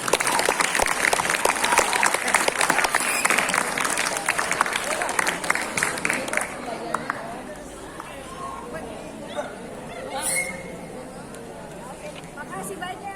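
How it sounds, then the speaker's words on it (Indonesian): Audience applause at a school language talk show during a gift presentation from the madrasah head, dense clapping for about six seconds that then thins and fades into quieter room noise with scattered voices. "Tepuk tangan dong."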